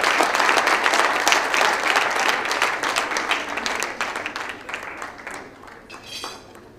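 Applause from an audience at a Bombay party, loud clapping at first that gradually thins and fades, with a clink of dishes and cutlery mixed in.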